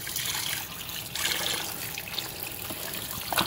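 Warm running water streams steadily from a tap, a continuous broadband rush with slight splashing as something is rinsed under it, fairly close.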